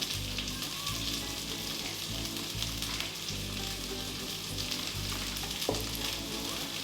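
Chopped onion and garlic sizzling steadily in a hot pan with toasted ingredients, a dense continuous fry with faint scraping of a spoon as it is stirred, close and even throughout.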